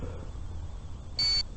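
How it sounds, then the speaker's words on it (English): A ghost-hunting gadget gives one short, high electronic alarm beep when touched, faint and alone over quiet outdoor background. "If you touch it, an alarm will go off"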